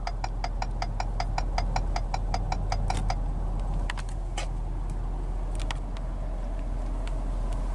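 Turn signal ticking inside a 2018 Ford F-250 Super Duty Platinum pickup, a steady run of crisp, evenly spaced clicks up close that stops after a few seconds, leaving a low idle hum.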